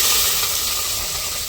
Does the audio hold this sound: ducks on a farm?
no